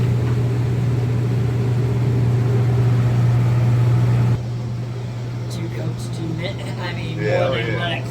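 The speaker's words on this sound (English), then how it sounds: "Sorry it's so loud. We got heat and we got fans" Fans and heaters run loudly in a garage during car painting, a dense steady drone with a strong low hum that drops in level midway while faint voices and clatter continue over it.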